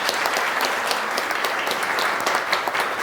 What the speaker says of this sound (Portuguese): Grande salve de palmas.